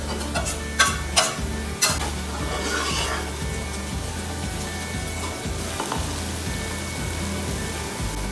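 Browned onions with ginger garlic paste fry for chicken biryani in a loud, steady sizzle, with a few sharp utensil knocks as a spoon stirs the pan early on; no talk.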